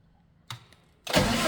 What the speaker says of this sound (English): we push that button down at the same time as we do the cranking